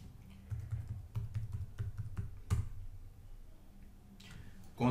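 Fast, uneven typing on a computer keyboard, clusters of crisp key clicks with a few louder strokes, close and alone without talk.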